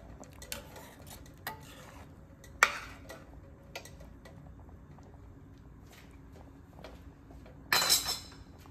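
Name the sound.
gently stirring paneer handi curry in a pan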